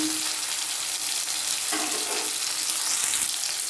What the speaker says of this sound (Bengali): দেখুন হাফ টমেটো আমি তেলে দিয়ে দিয়েছি